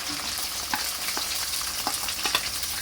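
Garlic and curry leaves fry in hot oil for a lime pickle, giving a continuous close sizzle with scattered crackles and pops and occasional stirring scrapes.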